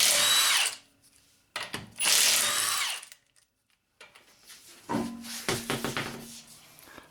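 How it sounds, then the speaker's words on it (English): An impact wrench with a 19mm socket spins wheel lug nuts off a 2006-2011 Honda Civic, giving two loud, close rattling bursts and then several shorter hammering bursts with brief pauses between them. "obviously with an impact wrench."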